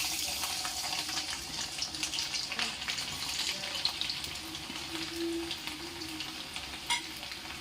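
Garlic hits hot oil in a pan for cooking vasetti bhaji greens, giving a steady broadband sizzle and crackle throughout, with a few brief utensil clinks and no talking.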